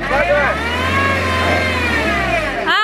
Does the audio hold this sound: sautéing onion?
no